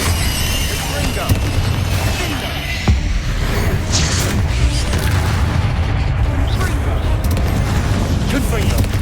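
Repeated booming spell blasts from Hogwarts Legacy combat, a dense run of loud, rumbling explosions and crackling bursts with sharp transients near the start, middle and end, over continuous game noise.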